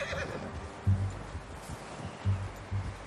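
Horse in Red Dead Redemption 2 neighing and whinnying in several short, loud bursts, with soft hoof clip-clop and rustling in an outdoor game setting.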